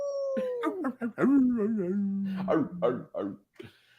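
A man mimics a dog's howl and yips with his voice, a close, loud, wavering call rising and falling in several bursts, with a brief shout-like tail at the end.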